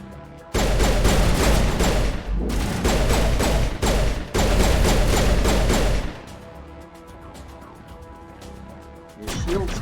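Heavy gunfire in a Mass Effect Legendary combat firefight, loud rapid bursts of automatic fire in several stretches over about six seconds, then quieter background noise before another shot near the end.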